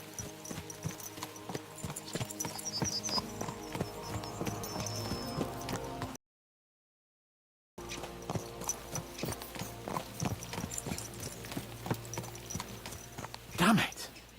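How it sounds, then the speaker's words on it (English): Horses gallop in the medieval video game Kingdom Come: Deliverance II, with steady clip-clop hoofbeats running throughout under a music bed, a brief silent gap midway, and a short whinny near the end. "Let's really spur these horses on, eh?"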